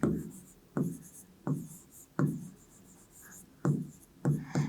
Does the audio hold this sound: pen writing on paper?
yes